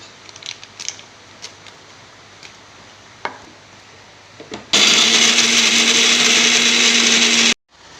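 Mixer grinder grinding whole spices with a small amount of poppy seeds, a loud steady motor whir that starts abruptly after some faint kitchen clatter, runs for about three seconds, then cuts off.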